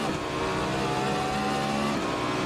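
A race car engine roars steadily in a racing video game while overtaking an Alpine, a loud continuous drone with a slight dip and rise in pitch partway through.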